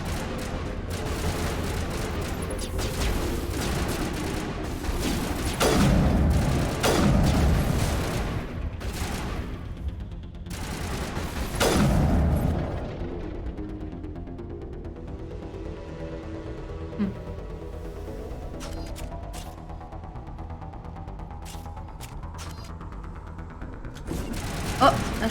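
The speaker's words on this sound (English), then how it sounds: "Oh, shit, I threw a grenade again." Gunfire and blasts from grenades in Mass Effect Legendary Edition, a dense run of loud bursts and booms during the first half, then a quieter stretch with scattered pops.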